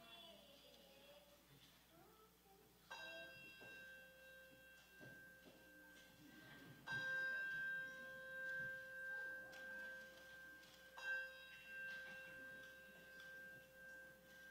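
Chimes sound before the prelude at a Sunday morning church worship service: three soft, bell-like tones struck roughly four seconds apart, each ringing on and overlapping the next in a quiet, reverberant sanctuary.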